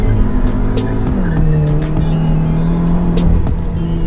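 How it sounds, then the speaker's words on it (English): A Skoda Octavia vRS in sport mode launches hard from a standstill with wheelspin, its engine revving loud and close with a steady high drone and tire squeal running through the whole burst. "Put it in sports. Flick it over to sports like that. And foot on the brake. And accelerator, and just launch. And no traction."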